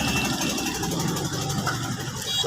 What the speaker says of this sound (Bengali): এই যে একটা ট্রলার আসতেছে দেখতে দেখতে পাচ্ছেন আপন গতিতে আপন মনে ট্রলারটা যাচ্ছে